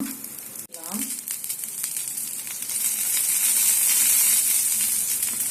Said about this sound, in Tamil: இதுக்கு மேல கொஞ்சம் நெய் ஊத்தி நல்லா அடை மாதிரி பொரிச்சு எடுத்துக்கலாம்